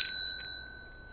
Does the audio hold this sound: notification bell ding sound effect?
yes